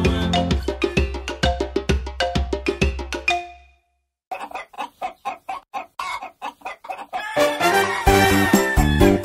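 Hens cluck in rapid, loud, rhythmic bursts, a steady run of sharp calls, then a short pause and another series of clucks, ending in louder, busier squawking.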